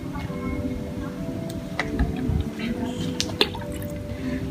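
River water drips from an Ekman grab sampler during field sampling of a river. Scattered, irregular drips and small splashes sound over a constant noisy outdoor background with a low steady hum.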